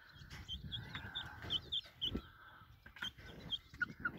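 Meat-breed roosters cluck and chirp in a mobile poultry pen, a cluster of soft, irregular calls at moderate distance with scattered rustling and no talk.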